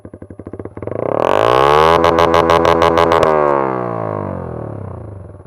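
Yamaha YZF-R125 motorcycle exhaust, heard loud and close with nobody talking: a few quick throttle blips, then a long rev climbing to about 10,000 rpm, holding with a rough pulsing edge and easing back down.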